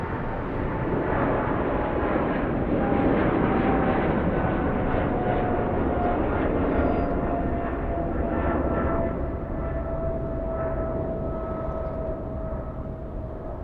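A British Airways airliner departing LAX for Heathrow, a loud, steady jet engine roar with a faint whine, sustained for over thirteen seconds and fading slightly toward the end, with no voices.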